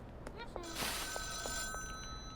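A payphone rings in the video game Schedule I, a clear electronic bell tone repeating in short bursts over a steady game background, with a voice speaking briefly under it.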